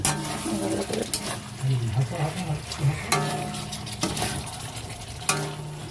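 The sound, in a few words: fried onion paste added to chicken korma in pan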